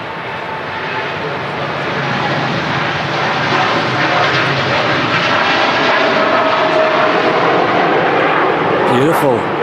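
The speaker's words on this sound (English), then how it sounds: "So we've got a couple of EasyJets on the way in, followed by a Turkish Airlines in from Istanbul." EasyJet airliners arriving at Manchester Airport, heard as a steady broadband jet roar that swells slightly as they draw nearer, loud and continuous throughout.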